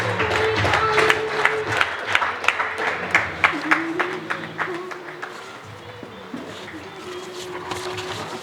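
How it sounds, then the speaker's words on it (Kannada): Audience applause for a young Agniveer Indian Army soldier at a public event, a crowd of many hands clapping steadily for several seconds, with distinct louder claps standing out against a low hum and background murmur. "ಅವರಿಗೆ ಒಂದು ಅಭಿಮಾನದ ಪೂರ್ವಕವಾದಂತಹ ಚಪ್ಪಾಳೆಯನ್ನು ಕೊಡೋಣ"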